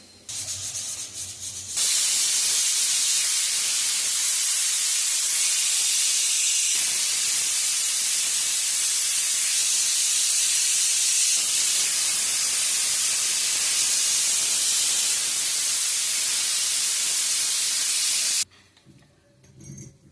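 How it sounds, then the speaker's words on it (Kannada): A pressure cooker whistle releases a loud, steady hiss of steam continuously for about sixteen seconds, starting and stopping abruptly, with quieter kitchen noise before and after. "ಇವಾಗ ಕ್ಲೋಸ್ ಮಾಡಿ 3 ವಿಸಿಲ್ ಹಾಕ್ಸ್ಕೊತೀನಿ"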